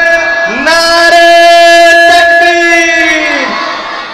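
A large crowd at an Urdu religious gathering bellows a Takbir slogan in unison, a loud, sustained chant of many voices that rises and holds for about three seconds before fading.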